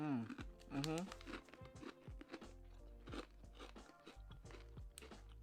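Loud, crisp crunches of hard almond cookies being bitten and chewed, several in quick succession, close to the ear, with a voice talking in between.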